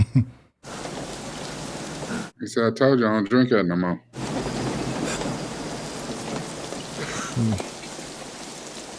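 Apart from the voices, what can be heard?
rain and thunderstorm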